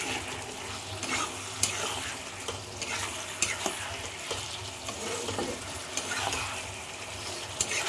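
Pointed gourd and potato sautéed together with spices in a pan, a continuous sizzle and frying hiss broken by repeated spoon scrapes and light knocks throughout.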